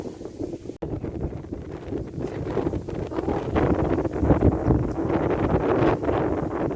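Strong, dry, cold wind blows across an open rice field around a field hut, a loud continuous roar with heavy gusting buffeting on the microphone that builds stronger toward the end.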